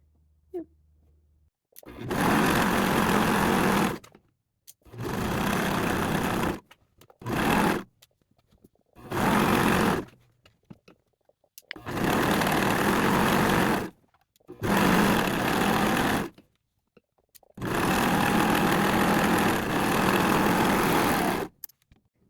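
A home sewing machine stitches a crotch seam on jogger pants in bursts of steady motor whirring, about eight runs of varying length separated by short silent pauses, close and loud with no talking.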